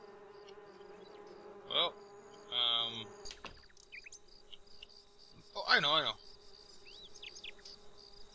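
Bees buzz in a video game set at Lakeview Cabin, with short electronic buzzing bursts spaced apart over game ambience while someone speaks briefly in between.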